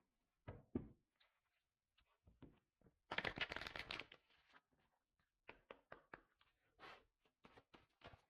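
Tarot cards are handled and shuffled close up: scattered soft taps and slaps, then a dense riffling burst lasting about a second, followed by more quiet card flicks and placements in a silent room.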